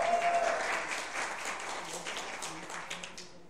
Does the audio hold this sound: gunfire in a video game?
no